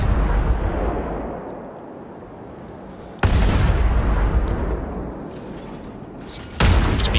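Heavy naval gun salvos from a warship in the World of Warships game, a loud rumbling boom at the start followed by two more sharp, powerful blasts with long decaying roars between them.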